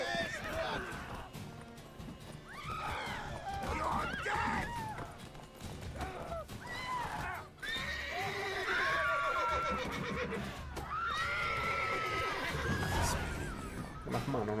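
A horse in a video game neighs and whinnies repeatedly amid hoof clip-clops, with people talking over it throughout.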